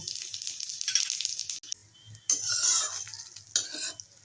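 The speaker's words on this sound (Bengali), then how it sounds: "এই তেলে জিরেটা ভেজে নেব" Crushed cumin seeds frying in oil for a spicy katla fish curry, a close crackling sizzle with brief scrapes and clinks of a utensil against the pan, no voices.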